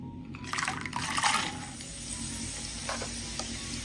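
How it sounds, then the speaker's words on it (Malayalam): Raisins and cashews frying in hot oil give a close, steady bubbling sizzle that swells briefly in the first seconds, then settles to a softer continuous crackle, alone without talk. "ഇനി ചൂടായി കിടക്കുന്ന എണ്ണയിലേക്ക് കുറച്ച് കിസ്മിസും കശുവണ്ടിയും ഒന്ന് ഫ്രൈ ചെയ്തെടുക്കാം."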